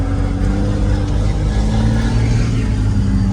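Heavy engine of the world's largest off-road wrecker truck droning and revving steadily at close range, with a low rumbling tone and no break, after its fan was knocked through the radiator.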